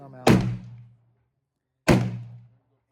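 Two loud, close rifle shots ring out at an outdoor rifle range, each a sharp crack with a short booming tail, spaced about one and a half seconds apart.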